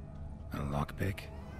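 A cat in The Witcher 3: Wild Hunt, Hearts of Stone expansion, gives two close meows in quick succession over a steady game background.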